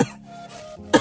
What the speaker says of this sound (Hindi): खांसी इसलिए हो रही है क्योंकि तुम दवाई नहीं खाते और ऊपर से तुमने अभी कोल्ड कॉफी भी पी।